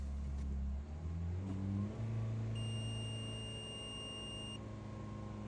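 A car engine idles, then revs up with a rising, throaty pitch before settling back to a steady idle, while a thin electronic beep tone sounds for a couple of seconds.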